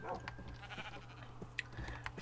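A black sheep bleats in a Minecraft game, with a few short, faint bleats over quiet background noise.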